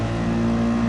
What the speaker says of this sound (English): AMG seems pretty good off the line.